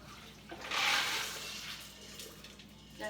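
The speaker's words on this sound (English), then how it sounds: "take a strainer, pour that water off" Soaking water from pinto beans pours through a kitchen strainer, a brief rushing splash that swells and then tapers into a lighter trickle, close and moderately loud with no voices.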